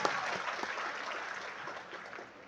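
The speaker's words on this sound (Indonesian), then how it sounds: "Aplaus buat Brilian" An audience claps together in a steady, dense burst of applause that holds its level and fades slightly toward the end.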